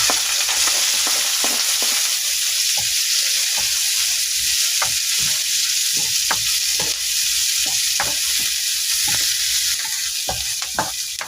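Garlic browns and onion sautés in a hot pan for a Filipino ginisang giniling, giving a continuous loud hiss with scattered crackles and occasional spatula clicks, close up with no talking.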